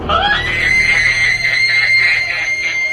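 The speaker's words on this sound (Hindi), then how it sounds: "एक औरत की आवाज में बुरी तरह से चीखा और बेहोश हो गया" A woman's piercing, sustained scream serves as a horror story sound effect, loud and unbroken for about three seconds with a shrill wavering tone and no talking.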